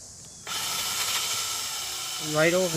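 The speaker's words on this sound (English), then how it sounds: "make that hole completely round with a 5 millimeter drill" A power drill with a 5 mm bit whirs steadily at close range after a sudden start, drilling a part for an ECX 2wd Torment RC truck, its high motor whine holding a couple of seconds before a voice begins speaking.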